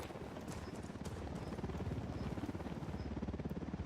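Helicopter rotor in the video game Ghost Recon Wildlands, a steady rapid chopping thud that holds close and fairly loud throughout, with no talk over it.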